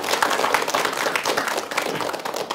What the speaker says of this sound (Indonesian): Tepuk tangan untuk Ustaz Randi.